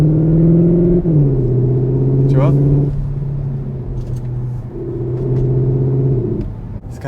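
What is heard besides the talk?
Cupra Leon ST hybrid engine revving, artificial engine sound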